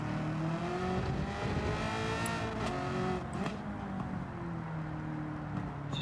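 A race car engine in Gran Turismo 7 drones steadily and loudly throughout, revving and shifting pitch as it rounds the track at Watkins Glen, with no talking.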